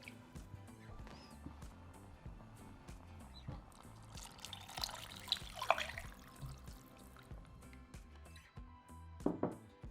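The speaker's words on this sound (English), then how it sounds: "Now we're going to add in 2 litres, which is a little over 8 cups of chicken stock" Chicken stock poured from a container into a pot of curry base gravy, a quiet, steady liquid trickle and splash that swells slightly midway, with faint kitchen noise behind it.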